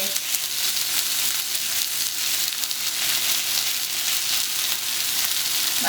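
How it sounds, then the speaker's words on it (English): Loud, steady sizzling of meat frying in a hot pan, a continuous crackling hiss that stays close and even throughout. "that sizzle is too high, so I'm going to turn down"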